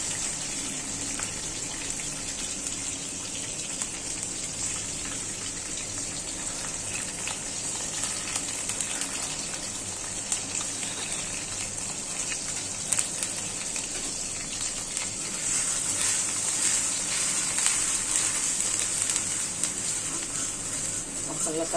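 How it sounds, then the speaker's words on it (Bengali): Prawns sizzling in a pan with a spice masala of turmeric, chilli, salt, onion paste, ginger and garlic, giving a steady, loud hiss and crackle of frying throughout, with a voice speaking over it. "মশলাটা ভালো করে কষায় নিই।"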